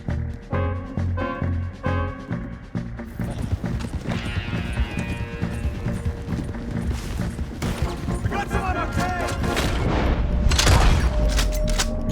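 Shootout in the video game Red Dead Redemption 2, with hoofbeats and clattering at the start giving way to dense bursts of gunfire and booming shots that build louder toward the end, voices shouting in between.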